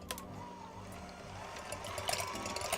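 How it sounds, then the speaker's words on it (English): An electric mixer whips egg whites for Halloween baking, a steady mechanical whirring hum that runs throughout and grows slightly louder toward the end. "It'll get a little loud because we're going to be whipping this for quite a little bit."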